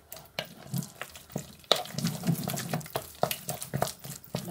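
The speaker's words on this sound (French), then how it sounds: "On essaye de le mélanger le plus possible." Egg being worked into choux pastry dough for profiteroles, repeated wet squelching and slapping of a spoon through sticky dough in an irregular rhythm, close and alone.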